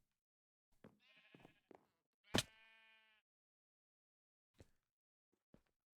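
Sheep in the Minecraft modpack All The Mods 10 let out a few short bleats alone against silence, followed by soft knocks and clicks.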